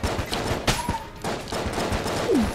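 Rapid gunfire from the video game Enter the Gungeon, a loud continuous barrage of shots with sharp bursts standing out over the game's background sound.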